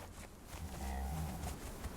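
A camel mount in the video game Conan Exiles gives a low, groaning bellow that swells in the middle and holds steady, near and fairly quiet, with no one talking over it.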